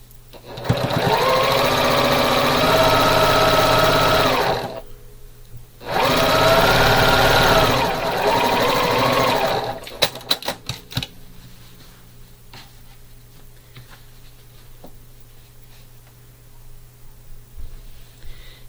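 A sewing machine stitches quilt block pieces together at a quarter-inch seam in two long, steady whirring runs with a short pause between them, followed by scattered clicks and light handling sounds.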